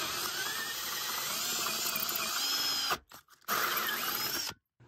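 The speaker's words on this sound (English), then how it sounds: "I just want to drill like halfway and then use the pilot hole from the other side to finish it up." A power drill bores a pilot hole partway through a teardrop camper wall, whining steadily and close, cutting out briefly near the end before spinning up again and stopping.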